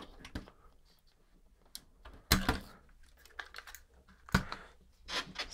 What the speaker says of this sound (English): Let me just get the keyboard out of the way.